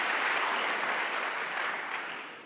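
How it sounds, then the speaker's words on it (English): Steady, dense clapping from a conference audience after a lightning talk, loud and continuous, easing slightly at the end. "Huge round of applause for Nika, thank you."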